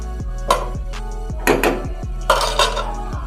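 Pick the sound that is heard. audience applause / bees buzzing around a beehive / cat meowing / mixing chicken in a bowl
mixing chicken in a bowl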